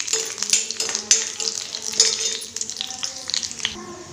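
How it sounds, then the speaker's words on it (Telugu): Mustard seeds, cumin, urad dal and dried chillies sizzle together in hot oil for a tempering: a steady, bright frying hiss with small pops and crackles, close and alone. "దీంట్లో అన్ని ఆవాలు, జీలకర్ర, మినపప్పు, ఎండుమిర్చి అన్నీ కలిపి ఒక్కసారే వేసుకున్నాను."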